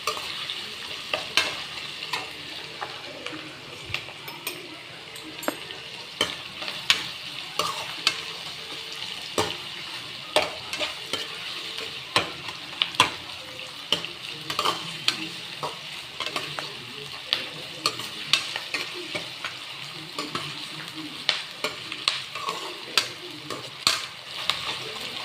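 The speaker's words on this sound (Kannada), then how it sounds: "ಸ್ವಲ್ಪ ಜೀರಿಗೆ ಹಾಕ್ತಾಯಿದ್ದೀನಿ" Cumin seeds sizzle and crackle steadily in hot oil, frying for a biryani while a spoon stirs them with frequent scraping taps, continuous and close with no voices.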